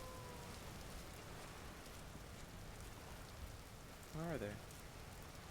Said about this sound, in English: Love it whenever it rains too.